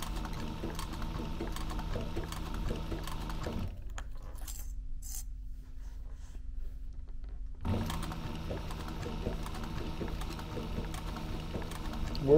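Sewing machine stitching the end seam of a duffel bag, running in steady rapid bursts near the mic, with a pause in the middle where a faint hum lingers before the stitching resumes.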